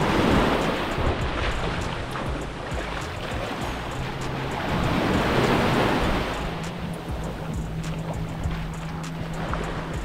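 Ocean waves wash steadily onto a wild, undeveloped stretch of beach in Mexico, a constant surf roar with swells rising and falling, mixed with gusts of wind buffeting the microphone.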